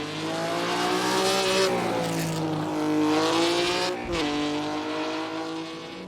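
A Ferrari F50 sports car is driven hard on a road on old tyres, its engine note rising and falling through gear changes in a loud, close, continuous howl.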